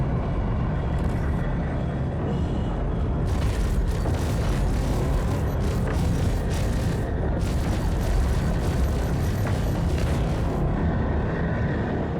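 Laser cannon fire from the Basher, armed with sextuple cannons, in a video game: a dense, loud, continuous booming barrage that rumbles on without a break.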